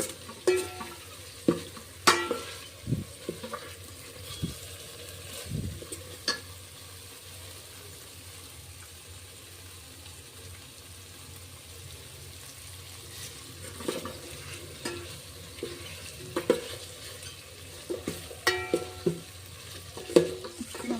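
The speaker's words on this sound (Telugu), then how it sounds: "ఎగ్స్కి మొత్తం బాగా గ్రేవీ పట్టేలాగా ఇలా బాగా కలుపుకోండి." Boiled eggs being stirred into gravy in a pan for egg biryani: a soft continuous simmer-sizzle broken by intermittent scraping clicks of a spoon against the pan, close and without speech.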